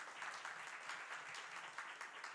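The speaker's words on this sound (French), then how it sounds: "je vous demande d'applaudir" Faint, steady clapping from an audience at a youth sponsorship ceremony in Martinique, even and continuous throughout, with no voices.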